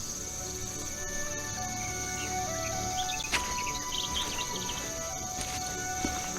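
Sparrows chirp in scattered, light tweets within The Night of the Rabbit video game, heard moderately near amid a steady insect-like buzz and a constant outdoor ambience, with no talking.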